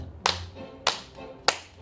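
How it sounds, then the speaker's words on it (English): A dance-for-wellbeing class claps in unison, giving three sharp, evenly spaced claps about half a second apart, close and distinct against a quiet room with no talking. "4 claps."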